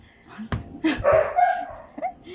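A dog gives a few short, soft yips and whimpering barks, fairly close, mixed with light background noise.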